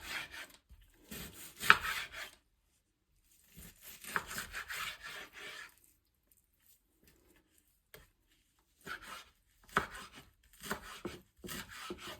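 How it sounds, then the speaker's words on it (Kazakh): A knife chops boneless chicken meat finely on a board in quick bursts of rapid strokes, separated by pauses of near silence. "Ұсақтап турап алатын боламыз."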